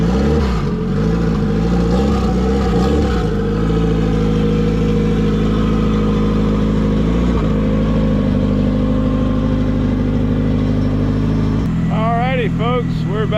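A K-swapped Toyota MR2 Spyder engine runs steadily and loudly throughout, a continuous mid-pitched drone that shifts slightly in tone near the end.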